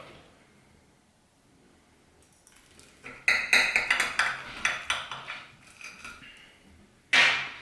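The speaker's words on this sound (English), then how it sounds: "Actually, let's get a knife." A knife and fork cut into breaded food on a plate, giving a run of close, sharp clinks and scrapes against the dish, then a final louder clatter after a short pause, with no speech.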